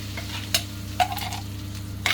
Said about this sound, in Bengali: তেলটা গরম হয়ে গেছে প্রথম আমি একদম লো করে হিংটা দিয়ে দিলাম